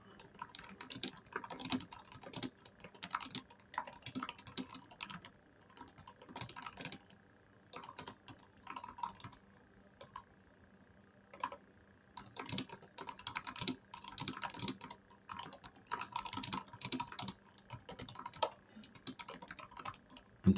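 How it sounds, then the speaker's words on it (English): Rapid clicking of computer keys in bursts with brief pauses, close and fairly quiet, no voices. "I'm typing like the whole thing."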